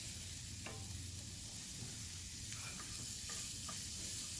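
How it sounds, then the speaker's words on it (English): Apples fry with bacon in a pan, sizzling steadily under a constant hiss while a utensil scrapes and taps the pan bottom a few times at close range. "you're just going to cook your apples off for maybe a minute or two"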